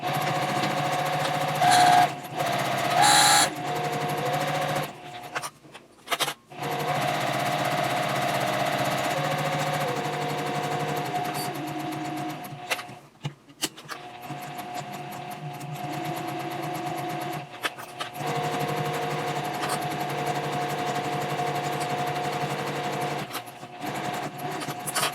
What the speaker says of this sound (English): Now I'm going to start sewing the stocking.